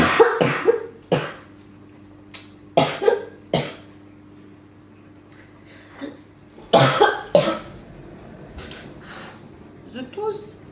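A person coughs repeatedly indoors, with bursts of several harsh coughs separated by pauses and a few fainter ones, close and loud over a steady low hum.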